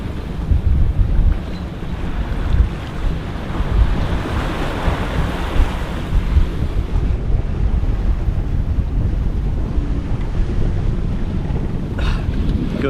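Wind and waves aboard a small sailing boat, a loud continuous wash of water and gusty wind buffeting the microphone throughout, with no talking.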